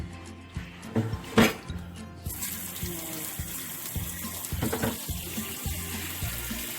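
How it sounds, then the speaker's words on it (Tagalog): Broth poured into a pot of braised Korean beef short ribs makes a steady gushing splash of liquid after an earlier clatter. The pour is close and continuous and carries on to the end. "lagyan na natin siya ng sabaw"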